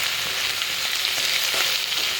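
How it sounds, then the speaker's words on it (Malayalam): Moringa leaf mixture being stirred and mixed in a pan with a spatula, a continuous close sizzling and frying hiss with soft scraping throughout, no voices. "ചട്ടുകത്തിൻ്റെ ഈ സൈഡ് ഇത് വെച്ചിട്ട് വേണം നല്ലപോലെ മിക്സ് ചെയ്യാൻ കേട്ടോ"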